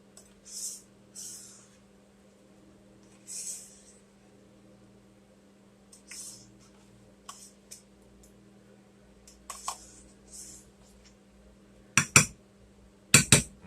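A spoon clatters against dishes and pans while a mini Christmas dinner is cooked: scattered soft clinks, then a few sharp, loud metallic clatters near the end over a steady low hum.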